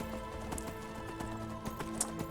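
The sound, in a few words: horse galloping hooves in a video game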